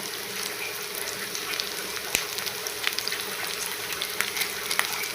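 Paneer and curry leaves frying on a tava, a steady close sizzling hiss with occasional small pops and one sharp clack partway through.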